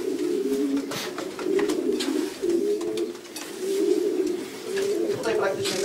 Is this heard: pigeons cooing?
yes